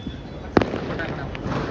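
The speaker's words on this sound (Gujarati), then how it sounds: "બધે ફટાકડા ફૂટે." A firecracker bursts once with a sharp, loud nearby bang amid Sunday celebrations in Surat, followed by a few fainter distant pops over a low background murmur.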